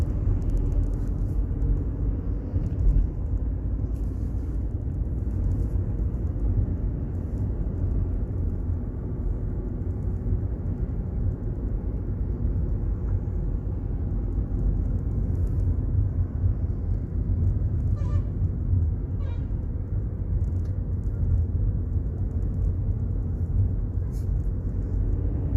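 A Volkswagen Polo hatchback accelerates onto a highway with a steady, loud engine drone and road rumble from inside the cabin, holding an even level throughout.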